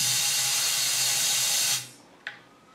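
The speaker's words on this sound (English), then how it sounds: "Use some compressed air in here. And also blow through the tube." Compressed air blasts through a small tube on a homemade LS engine preluber in a loud, steady hiss for nearly two seconds, then cuts off, followed by one brief short puff.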